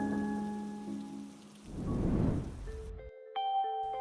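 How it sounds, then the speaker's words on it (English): Heavy rain pours steadily at night near a bus stand, swelling into a loud rumbling roll of thunder midway before the noise cuts off abruptly and a few tonal sounds follow. "It's been raining like this"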